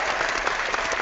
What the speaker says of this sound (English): why not give him a big clap too?